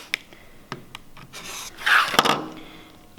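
Fabric edges of quilt half-square triangles are trimmed in both directions, giving soft scraping and rubbing strokes with a few sharp taps, close by and quiet, without speech.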